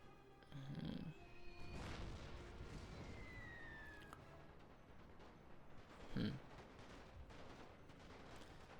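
Gunfire from a Napoleon: Total War battle running the Great War mod sounds faint and distant, with a couple of soft volley thumps standing out over a low battlefield murmur.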